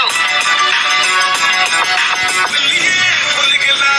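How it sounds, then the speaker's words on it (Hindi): Music plays loudly from the single built-in speaker of a Realme P3X budget smartphone at full volume, a continuous bright, dense song filling the whole clip with no talking. "पहले मैं आपको गाना सुना देता हूँ Realme के ऊपर।"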